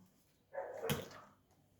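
A pet dog gives one short bark at a Filipino home during a tongits card game. The single bark is faint and somewhat distant and trails off in a brief whine.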